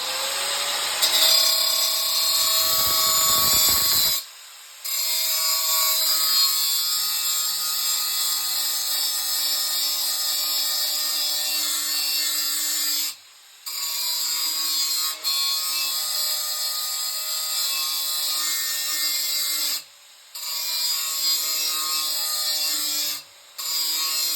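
A lawnmower blade clamped in a vise is ground to sharpen its edge, a loud continuous high-pitched whine broken by a few short pauses between passes.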